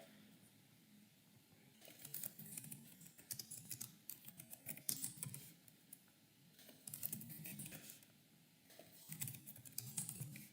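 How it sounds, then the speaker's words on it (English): Quiet, close keyboard typing in irregular bursts of rapid clicking and tapping, pausing briefly between runs, with no voices present. "I was typing in chat."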